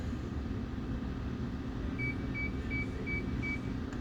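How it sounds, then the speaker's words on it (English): Five short, faint electronic beeps from a Scanreco remote controller being synced sound at an even pace over a steady rumble of background noise, with no voices. "It beeped once."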